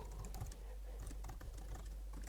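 Soft, quick keystrokes on a computer keyboard in a steady flurry of clicks, faint and close, with no voices.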